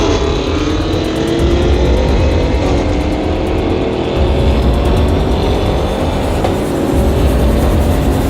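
A Range Rover under hard acceleration in a drag race against luxury trucks including a Raptor, its engine a loud, steady roar with rising harmonics throughout, close and continuous.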